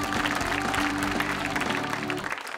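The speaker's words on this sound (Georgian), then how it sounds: "აპლოდისმენტები" A Georgian television studio audience claps together during a talk show, a dense, steady wash of applause that fills the whole stretch before thinning slightly at the end.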